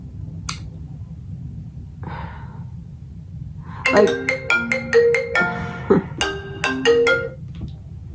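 A telephone rings with a bright melodic ringtone of rapid repeated chimes, close and clear, after a quiet stretch with soft breathing and a faint sigh.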